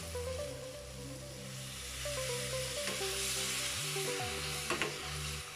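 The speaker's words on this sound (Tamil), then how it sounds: "இப்போ புளியை ஊற்றிடலாம்." Brinjal frying in oil sizzles and hisses as tamarind water goes into the pan, a steady crackling close up with occasional stirring clinks.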